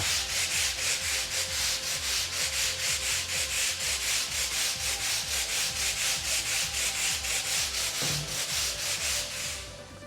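A nylon brush scrubs oil stains off a rough concrete floor with multi-purpose cleaner, making loud, steady rhythmic back-and-forth strokes close by, with no talking.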